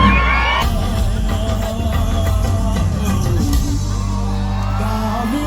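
Crowd at a live music concert in Toronto cheers, whoops and whistles loudly, a dense roar of voices sustained throughout with brief bangs and yells over band sound.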